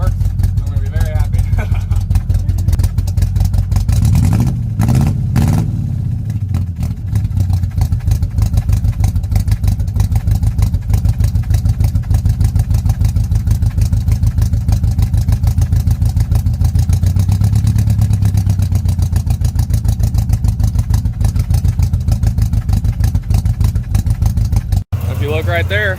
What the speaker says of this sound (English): So let's go ahead and start the truck and we'll see if she lights up.